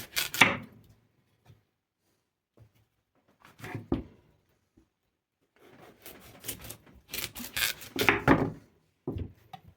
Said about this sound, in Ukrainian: Ось ріжу на такі кільця